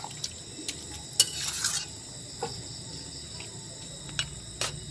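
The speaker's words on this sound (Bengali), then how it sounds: "এখন একটু নেড়ে চেড়ে নিচ্ছি।" A spoon scrapes and clicks through a thick cabbage curry with fish head in a pan, giving irregular close stirring knocks over a faint sizzle.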